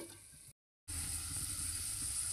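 Ivy gourd curry with chili and salt stirred in a pan: a steady hiss of sizzling with faint scraping, briefly cut off before resuming.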